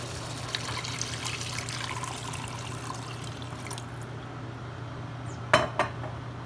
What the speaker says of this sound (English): Now I'm going to add 4 cups of water in this.